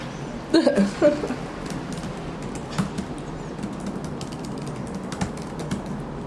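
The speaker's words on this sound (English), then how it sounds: "Oh, this is hard to type with these nails." Long fingernails tap on a computer keyboard in irregular bursts of light clicks, fairly close and moderately quiet over a low room hum, with a brief voice-like sound near the start.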